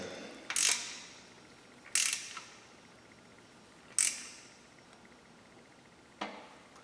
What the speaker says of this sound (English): we're going to take the 10mm ratchet wrench again, and we're going to go ahead and get that as tight as we can get it